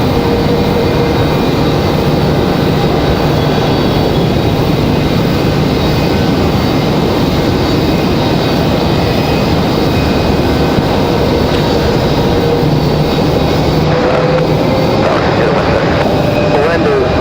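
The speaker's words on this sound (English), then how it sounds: "Next arrival is Delta 2699, of course, coming in from Minneapolis. A320-200." A Delta Airbus A320-200 jet arriving from Minneapolis, heard as a steady broadband engine roar with a slowly rising whine, continuous and fairly loud against gusty outdoor wind.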